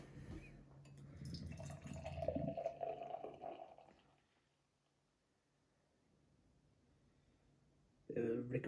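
Craft beer from Spyglass Brewing, a Citra and Amarillo brew, poured roughly into a glass, with a steady splashing fill for about four seconds, then quiet before a voice returns.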